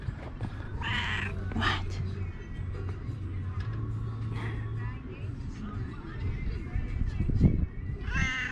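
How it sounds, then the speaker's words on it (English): A stray cat meows a few times in short bursts amid background chatter and a low hum, with a voice speaking nearby. "You have a beautiful meowing sound."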